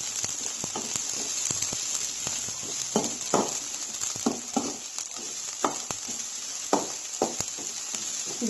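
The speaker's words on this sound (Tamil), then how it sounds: "இது கொஞ்சம் ஹையில் வச்சு ஃப்ரை பண்ணுங்கள்" Carrots and beans for Maggi masala frying on high heat in a pan, a steady crackling sizzle with frequent louder stirring scrapes and clatters, close and continuous with no talking.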